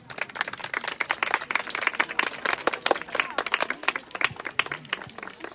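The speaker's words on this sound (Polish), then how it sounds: "Psy mamy w ringu, przywitajmy je oklaskami." Spectators at a club show final for Molossian and Swiss Mountain dogs clap as the dogs enter the ring, a steady burst of crowd applause lasting several seconds, fairly close and continuous.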